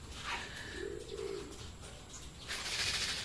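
Racing pigeons cooing softly at a club training session alongside scattered bird chirps, with a brief flurry of higher calls near the end; no one speaks.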